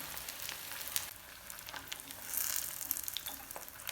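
Pieces of shark fish fry in hot oil, a close, continuous crackling sizzle with scattered sharp pops and a brief louder surge midway.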